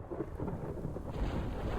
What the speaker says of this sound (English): we're descending into a thunderstorm